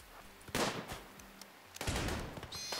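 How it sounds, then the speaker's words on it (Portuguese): Bursts of gunfire in the video game Rimworld, two clusters of rapid shots separated by a short pause, fairly faint with small clicks between, and no voices over them. "vocês estão atirando na Ana aí"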